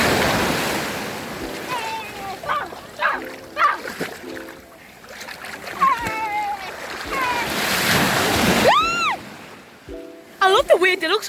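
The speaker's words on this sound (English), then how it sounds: "I love the waves, they look so pretty." Ocean waves rolling onto a beach, a broad whooshing surge that rises and falls with wind buffeting the microphone, mostly under excited voices of people talking and shouting nearby.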